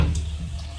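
Water pours steadily into a cooking pot of browned chicken and potato for shorba, a continuous close splashing rush with no voices.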